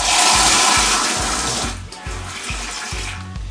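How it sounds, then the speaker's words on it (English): Water pours into a pot for Jamaican plantain porridge, a bright, loud splashing rush that gives way to a lower, bubbling trickle with rhythmic glugging as the pot fills. "So I'm going to put some water into it."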